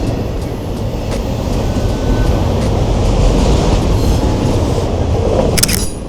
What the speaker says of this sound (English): anytime a train comes by when I'm out shooting, I have to stop what I'm doing and try to shoot it